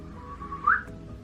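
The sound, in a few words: person whistling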